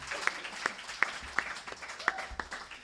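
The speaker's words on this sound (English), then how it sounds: "So can we all please clap for Pegasus?" Scattered claps from a small audience in a bookstore, a handful of distinct sharp hand claps spaced apart rather than a sustained ovation, over a quiet room.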